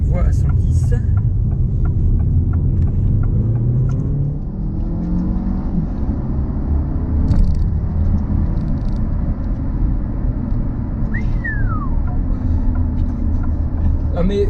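Inside a 2023 Alfa Romeo Tonale 1.3 turbo Q4 hybrid SUV, a steady road rumble and engine drone fill the cabin as it accelerates on the highway, with a voice talking over it.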